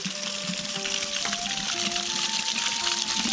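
Fresh water flows steadily at a spot in Kathmandu, Nepal, a continuous close splashing and gushing with faint tonal whistles over it and no talk.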